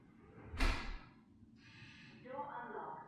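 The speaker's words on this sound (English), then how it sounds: "You can use your smartphone to easily unlock the door as well as lock it by pressing and holding the lock or unlock button." TCL D2 Pro palm vein smart door lock working: a sharp, loud mechanical clack of the bolt moving, followed by quieter electronic chime-like tones near the end, close-up and with no talking.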